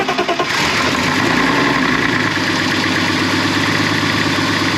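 A turbocharged BMW E36 325i engine runs steadily after start-up, a loud, close, continuous drone with a smooth, even idle rhythm and no voices over it.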